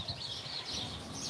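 Birds chirping outdoors in a Cambodian town, faint high tweets repeating over a soft background hum, distant and quiet with no talking.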